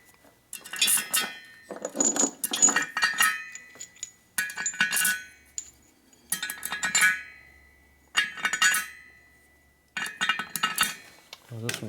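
Metal bolts from a 1941 Harley WL 45 flathead engine build clink and jingle in close, bright bursts, about six separate handfuls gathered with short pauses between them.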